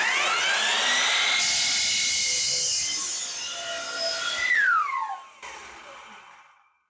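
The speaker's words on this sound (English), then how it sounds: "Can it handle my 12-inch sliding compound miter saw?" A 12-inch sliding compound miter saw runs at speed, a loud high whine that holds steady, then sags and winds down, spinning to a stop within a few seconds.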